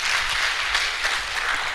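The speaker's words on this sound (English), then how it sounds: "So let's give him a clap as we welcome him." A conference audience claps to welcome a speaker at an AI in higher education summit, a steady, dense wash of applause that holds evenly throughout.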